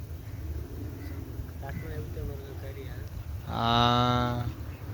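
A small native cow gives one drawn-out, nasal moo lasting about a second, heard outdoors against wind noise after a stretch of murmured talk.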